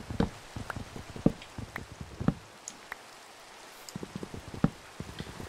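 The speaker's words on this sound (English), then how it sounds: "I do like how they did get the sound for rain right." Minecraft rain patters steadily with scattered soft drops and light taps, a close, gentle shower with no voices over it.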